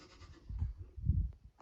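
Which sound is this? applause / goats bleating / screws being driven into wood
goats bleating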